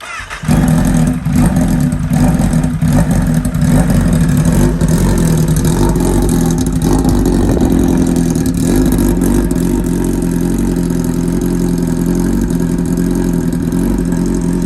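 A motorcycle engine starts and then runs loud and close, with a dense, steady roar and a few revs throughout, and little else audible.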